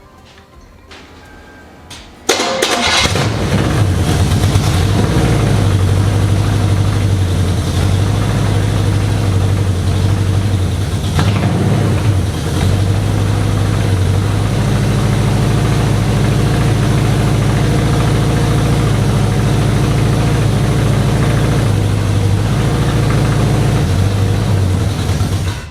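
An 18-year barn-find 1972 Chevrolet C10 pickup engine cranks and fires after a quiet moment, then settles into a loud, steady, rumbling idle close by with slight fluctuations throughout.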